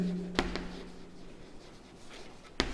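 A teacher writes on a classroom board, producing soft scratchy strokes with a couple of sharper taps at the start and end, faint and close, with no talking over it.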